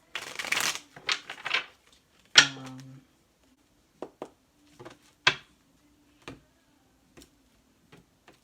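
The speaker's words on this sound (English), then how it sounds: "I'm going to pull a few cards from this deck." A tarot card deck is riffled and shuffled up close, with a burst of rapid flicking followed by sparse, soft card taps and snaps in a quiet room.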